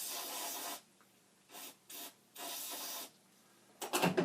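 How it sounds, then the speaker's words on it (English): Aerosol spray hissing onto a circuit board for a Commodore PET composite video prototype, in several short bursts of varying length, close and fairly loud, with a sharper rattling burst at the end and no talk. "Spray a little of this fine stuff."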